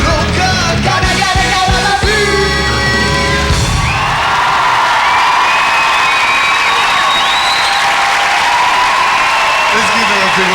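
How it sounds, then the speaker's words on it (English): Concert audience at a show breaking into loud sustained applause with cheers and whoops, swelling after music and singing fade in the first few seconds. "Let's give her a big applause, please."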